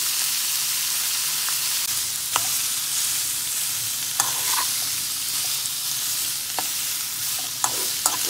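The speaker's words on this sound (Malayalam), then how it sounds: "വലിയൊരു സ്പൂണിൽ നെയ്യ് ഒഴിച്ചിട്ട് അതിലേക്ക് പനീർ നല്ല ബ്രൗൺ കളറാക്കി എടുക്കണം" Paneer pieces fry in ghee over low heat, a loud steady hiss and crackle throughout, with occasional soft taps of a spoon stirring in the pan.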